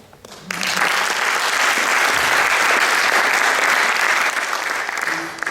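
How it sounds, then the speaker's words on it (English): A crowd bursts into sustained applause, dense clapping holding steady for several seconds before tapering slightly. "Please give a round of applause."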